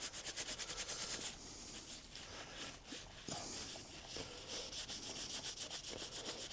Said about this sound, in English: So we clean them all up nice and clean. Clean the caliper